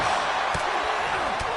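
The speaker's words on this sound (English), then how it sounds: "That kick will stop you in your tracks." A kick impact in the WWE 2K25 wrestling video game lands as two sharp thuds, close and loud, over a steady bed of crowd noise. A commentator's voice runs underneath.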